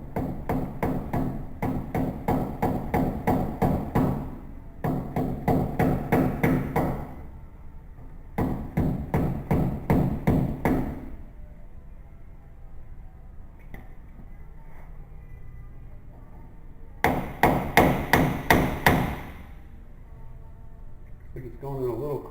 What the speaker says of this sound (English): We're going to start tapping it in.